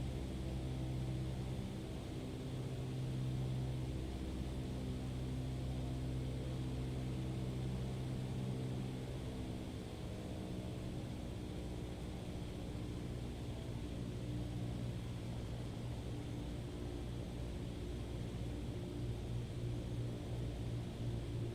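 Steady drone of a light aircraft engine held at low power with flaps fully down on landing approach in Microsoft Flight Simulator 2020, a constant hum with tonal bands running unbroken and fairly loud for the whole stretch, no talking.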